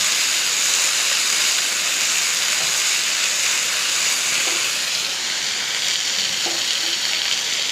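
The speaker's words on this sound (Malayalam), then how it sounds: "ഇതൊന്ന് നന്നായി നമുക്കൊന്ന് ഫ്രൈ ആക്കി എടുക്കാം." Tomato and onion frying in a pan, a loud continuous hiss and sizzle with a few faint stirring taps, no voices.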